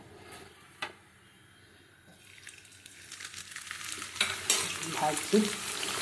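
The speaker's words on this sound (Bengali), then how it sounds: "এবার তেলটা আমার গরম হয়ে গেছে, এবার আমি এগুলোকে ভাজবো" Rolled pieces of dough frying in hot oil. The sizzle starts soft, then swells into a loud, dense crackling bubbling that builds toward the end, with a few sharp pops.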